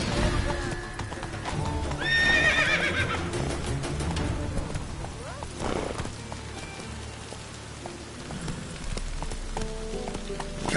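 Horse neighing and galloping in a video game, a loud whinny early on over steady clip-clop hoofbeats with rain-like noise, while someone talks over the gameplay.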